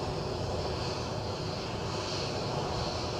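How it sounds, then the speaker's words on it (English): A British Airways Embraer 190 arrives inbound from London City at Edinburgh, giving a faint, distant, even jet engine roar with a soft high whine and no talking. "Inbound we have an Embraer 190, British Airways as you can tell, from London City"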